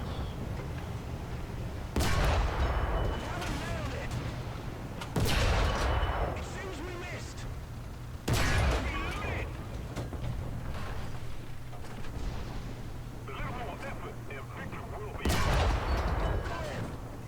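Artillery and tank gunfire in the video game War Thunder, with a BT-5 Russian light tank in play: four heavy, evenly spaced booms a few seconds apart over a steady engine rumble, with players talking between shots.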